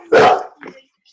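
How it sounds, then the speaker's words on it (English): A dog barks once, loud and close, then gives a shorter, fainter yelp in the background of a virtual conference call. "There's a dog barking."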